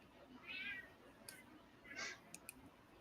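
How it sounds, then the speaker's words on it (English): Cat meowing faintly in the background during a livestream of people building at night, two short meows about a second and a half apart, distant and quiet over room noise. "I heard a cat. Was that a cat?"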